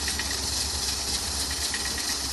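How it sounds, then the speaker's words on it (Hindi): A pressure cooker cooking chickpeas releases a steady, loud high-pitched hiss of steam, continuous and unbroken, with a low rumble underneath. "10 मिनट के लिए कुकर चलाएंगे हम"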